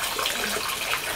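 A steady, soft trickle of water poured from a wooden ladle over hands during purification at the Kamigamo Shrine basin in Kyoto, continuous and close with no voices.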